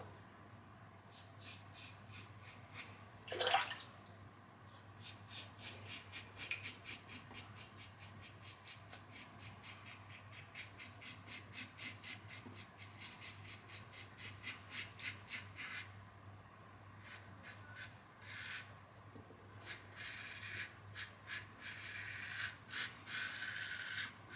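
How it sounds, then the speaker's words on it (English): A Karve safety razor loaded with a Polsilver Super Iridium blade tidies a sideburn, giving close, quiet rasping strokes in quick repeated bursts with short pauses, no talking. "I'm just going to tidy this sideburn up with the Karve"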